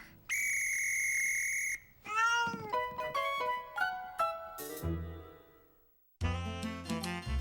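A shrill, steady whistle blast, followed by a run of short cartoonish tonal chirps and bouncy notes, then a brighter burst of layered tones.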